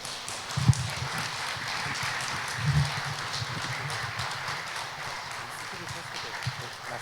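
A congregation at a Friday prayer service claps to welcome a missionary, a steady, moderately distant patter of many hands with a few heavier thumps, continuing throughout.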